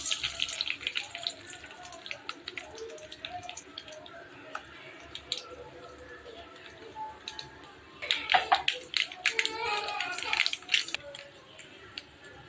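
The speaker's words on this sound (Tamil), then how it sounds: "கடுகு பொரிஞ்சிருச்சிங்க" Mustard seeds sputter and pop in hot oil for lemon rice, a busy crackling sizzle running throughout at close range that grows denser toward the end, with a voice talking faintly underneath.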